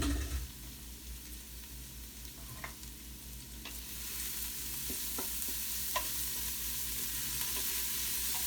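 Garlic frying in oil for a red sauce sizzles steadily while a utensil scrapes and taps now and then, the hiss growing slightly louder partway through; close and fairly quiet, no speech.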